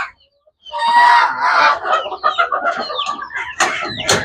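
Black Kadaknath chickens in a coop, a loud, close chorus of clucking and squawking that starts after a brief silence and continues with sharp bursts.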